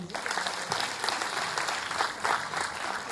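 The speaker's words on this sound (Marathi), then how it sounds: "एकदा प्लीज मी टाळ्या वाजवण्याची विनंती करतो" Sustained applause from an audience honouring the founder of an old age home, steady dense clapping filling the whole stretch at moderate volume with no voices on top.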